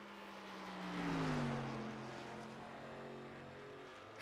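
A race car, number 93, running a practice lap, its engine note rising then falling as it passes by at moderate distance, with no talk over it.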